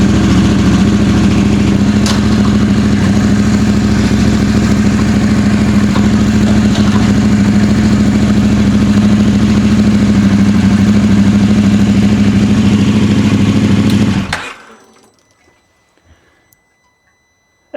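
A motorcycle engine idles loudly and steadily up close after a side stand switch dongle is fitted, then cuts out at about fourteen seconds, leaving near silence.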